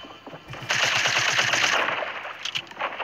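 Rapid automatic gunfire from guns in a video game, a dense burst of rattling shots lasting over a second, fairly loud and close, followed by lingering noisy echo and scattered fainter shots.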